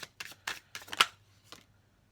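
A deck of tarot cards is shuffled by hand in several quick riffling bursts, close and fairly quiet, with no voices over it.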